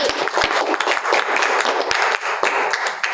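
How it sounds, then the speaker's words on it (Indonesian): A classroom of students claps together during a university microteaching session, a steady burst of close, dense applause lasting a few seconds with no talk over it. "Tepuk tangan untuk Ari."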